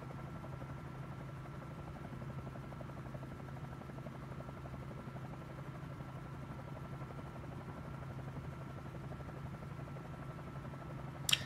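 A Bell 47J helicopter in Microsoft Flight Simulator cruises along with a steady, low rotor and engine drone, even and unbroken, with a brief click near the end.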